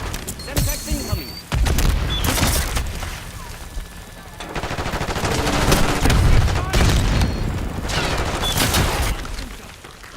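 Semtex grenade explosions and gunfire in Black Ops 6 multiplayer on a hardpoint map: sharp booms and bursts of shooting in clusters, with announcer voice callouts heard between the blasts.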